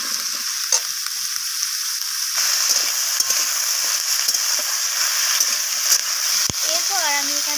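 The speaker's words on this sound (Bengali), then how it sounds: "সব কিছু একসাথে এইভাবে নাড়াচাড়া করে আমি একটু ভাজা করে" Small shrimp stir-fried with radish, kohlrabi and cauliflower stalks give a steady, loud sizzle throughout, broken by scraping stirs, with a brief voice at the end.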